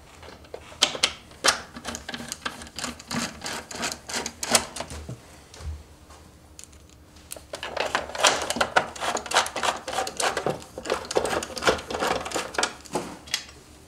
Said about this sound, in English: Bring those screws back in.